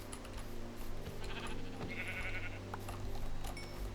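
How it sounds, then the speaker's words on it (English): Sheep in a blocky survival video game village bleat in short repeated calls over a steady background hum of game sounds, moderately close, with no one talking. "More sheep. Excellent."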